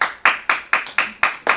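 Hands clap in a slow, even rhythm at a conference, about seven sharp, close claps in under two seconds with no talking.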